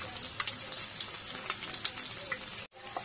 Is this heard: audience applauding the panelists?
no